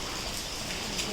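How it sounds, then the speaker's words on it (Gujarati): Rain falls steadily outdoors during a monsoon-season festival bath for a small deity idol, a dense, even hiss with no pauses across the short stretch. "વરસાદે થોડોક ધીમો પડી ગયો છે"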